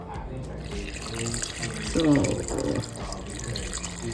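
Water runs from a tap into a pot of Jamaican red peas soup, a short splashing gush that swells mid-way, while a person speaks briefly over it.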